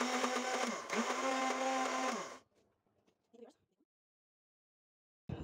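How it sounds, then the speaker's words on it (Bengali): A blender whirs up boiled egg mayonnaise in a loud, close, droning motor whine, briefly dipping in pitch once and then cutting off after about two seconds, followed by a few faint clatters and near silence. "আমি এবার ব্লেন্ড করে নিচ্ছি"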